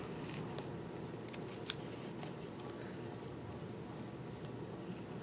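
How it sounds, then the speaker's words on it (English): Scissors snip through paper during a flower-and-colored-pencil craft session, giving a few quick crisp cuts over a steady low background hiss, close and fairly quiet, with no talking. "So I would cut it."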